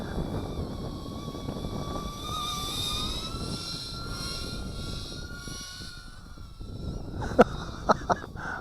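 An Eachine Falcon 120 FPV racer drone flies outdoors. Its high-pitched buzzing whine shifts in pitch as it speeds up and turns, and sharp clicks and knocks come near the end.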